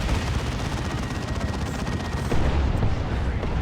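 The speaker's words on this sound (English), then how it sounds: "Big old tank buster barrage" A tank buster barrage in the Warhammer 40,000: Dawn of War 2 video game pounds away as a dense, continuous rumble of gunfire and explosions with heavy low-end booms, steady and loud throughout with a heavier surge near the end.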